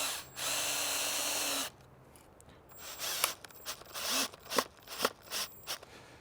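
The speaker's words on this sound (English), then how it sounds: "hold that in place, and we'll drive one of these screws in." A power drill drives a screw into a frame in a single steady whir lasting just over a second, close and loud, followed by quieter handling knocks and scrapes.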